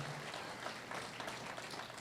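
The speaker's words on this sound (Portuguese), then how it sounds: "Dê um aplauso a Jesus por essas vidas, queridos." Faint, continuous applause from a crowd, steady clapping with no break throughout.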